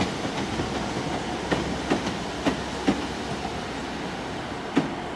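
Diesel multiple unit trains rumble steadily at Exeter St Davids station, with irregular clacks from wheels crossing rail joints over a broad noisy wash.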